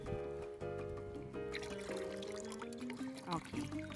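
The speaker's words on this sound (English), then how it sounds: "If it's too thick, we need to add more water." Water is poured into a cooking pot while tamales are being made in a home kitchen in Cayo, Belize, a steady splashing pour under music and voices, with people talking nearby.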